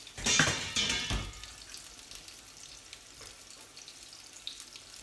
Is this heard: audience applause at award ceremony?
no